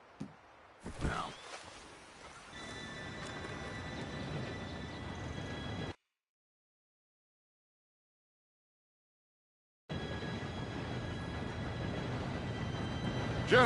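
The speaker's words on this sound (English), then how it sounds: "Train should be here any minute." An approaching train in the video game Red Dead Redemption 2 produces a steady, broad rumbling roar. The sound cuts to complete silence for several seconds, then resumes at the same level.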